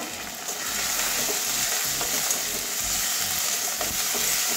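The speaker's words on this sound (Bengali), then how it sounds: "এটাও কাঁচা গন্ধ যাওয়া পর্যন্ত ভাজবো।" Ginger garlic paste fries in a pan for a Bengali prawn curry, giving a steady, close, even sizzle with faint stirring scrapes and no talk.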